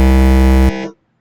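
Synthesized tone in Phase Plant run through a stereo comb filter tuned around 120 to 130, a loud, dense buzzy drone holding steady, then cutting off abruptly with a short decaying tail into silence.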